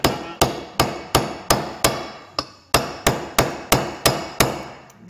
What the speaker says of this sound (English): just give it a tap with the hammer